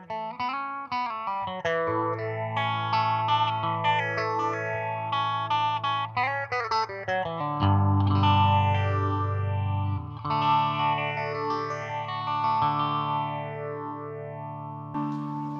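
An electric guitar runs through a Warm Audio Mutation Phasor II phaser, playing chords and sustained notes with a distorted tone and slow, sweeping whooshes. The guitar is close and loud and no one speaks.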